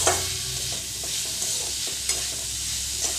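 Turmeric and garam masala powders are stirred in a hot pan for a cauliflower paratha filling, giving a continuous close sizzle broken by soft scraping strokes of the spoon, with no voices.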